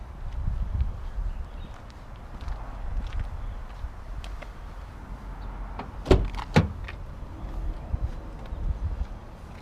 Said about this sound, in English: automatic windows down and up